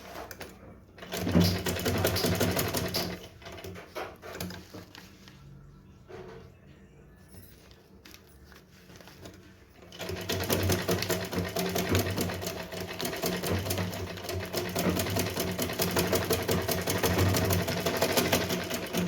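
Electric sewing machine stitching the folded waistband of a small Laddu Gopal dress, running in a fast continuous whir, pausing partway and then resuming louder and steadier, close up.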